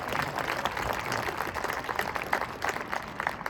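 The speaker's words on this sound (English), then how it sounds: "So a big round of applause for him." A faint, distant round of applause from an audience at a family and friends band performance: sustained, rattling clapping heard alone and at low level for a few seconds.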